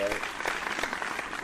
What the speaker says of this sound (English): Definitely gotta have a round of applause for